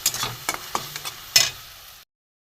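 Lote fish chorchori frying and being stirred in a pan: a few close scraping, sizzling strokes with short pauses, then near silence at the end.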